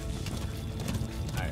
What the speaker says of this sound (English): thank goodness I can still ride my horse with binoculars